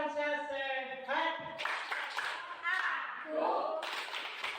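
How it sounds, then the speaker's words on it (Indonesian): A group of seniors in Jember performs a rhythmic clap routine, voices chanting in unison with sharp bursts of claps landing between the phrases, fairly close and moderately loud. "Tepuk lansia sehat"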